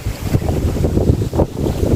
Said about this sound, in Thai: ฟ้าลมแรงนะ